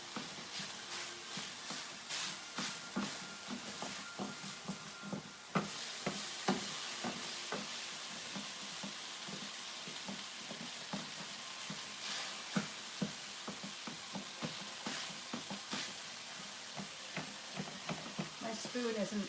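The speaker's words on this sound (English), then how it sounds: "make sure that your sausage is cooked. And brown it up a little bit" Sausage browning in a pan for Thanksgiving stuffing, a steady sizzle and frying hiss broken by frequent scraping and stirring clicks of a utensil against the pan, close and continuous.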